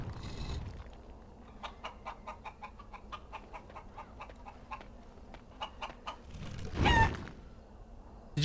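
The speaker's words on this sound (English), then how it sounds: "Did you just crush a chicken?" A chicken in the fantasy video game Dragon Age: Origins gives a rapid run of clucks, close and fairly loud, followed by a brief louder thump and squawk as it is crushed.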